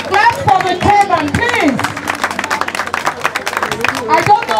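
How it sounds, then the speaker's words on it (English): Guests at a Nigerian wedding clap steadily under a loud voice and crowd chatter, a continuous crisp patter of many hands nearby. "Keep clapping. Keep clapping. Clap for the turban,"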